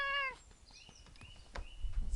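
A pet cat gives a short, bright meow right at the start, close by, followed by quiet shuffling and light knocks.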